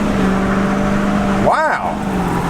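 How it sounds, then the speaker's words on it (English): A heavy 2019 Ford F450 dually Lariat pickup with a 6.7-liter Power Stroke diesel engine pulls away from a stop, its low engine drone rising in pitch as it accelerates and swelling briefly before easing off. "give this truck a little power and see how she cruises right here"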